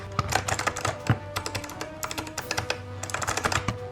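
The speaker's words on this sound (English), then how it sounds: "my gaming mechanic keyboard, the Gears 5, that's pretty nice, and I had a good feel of it, and listen to this" Fast, close typing on a Gears 5 gaming mechanical keyboard, with dense bursts of crisp clacky keystrokes and a few heavier thunks, all heard alone without talk.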